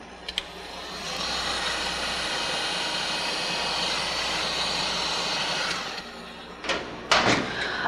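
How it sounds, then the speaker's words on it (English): A heat gun blows hot air steadily for about five seconds to dry glue for gold leaf laser engraving on plexiglass, a loud continuous whooshing roar, followed by a few brief knocks and handling sounds. "So I just use the heat gun,"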